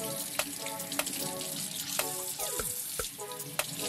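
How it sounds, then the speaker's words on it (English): Cold tap water runs steadily into a sink while salmon is rinsed, a constant close hiss broken by a few soft splashes and knocks. "Gently rinse under cold water"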